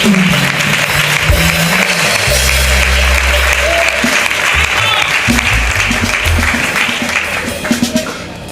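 Church congregation breaking into loud, sustained applause during a prophetic gathering service, dense clapping continuing throughout with low musical or organ-like tones underneath and a slight fade near the end.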